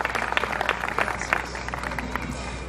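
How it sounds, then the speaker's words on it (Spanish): Scattered clapping from a church congregation after a sermon, fairly loud and steady, with a low hum underneath. "quiero que demos un aplauso al Señor"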